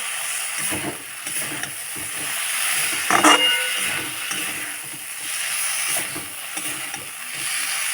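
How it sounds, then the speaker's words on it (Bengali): Pieces of fried shol fish tossed and stirred together in a hot pan of sautéing masala, with a steady sizzling hiss and repeated scraping strokes of a spatula, close and continuous. "এবারে দিয়ে দেবো যে মাছ ফোটা আমি ভেজে রেখেছিলাম সেগুলো দিয়ে সবগুলো একসাথে ভালো করে কষিয়ে নেব"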